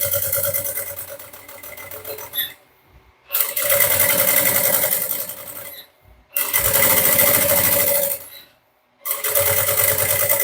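A sewing machine stitches a mini bucket bag in three loud, steady runs of rapid mechanical whirring, each broken by a short pause.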